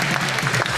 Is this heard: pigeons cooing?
no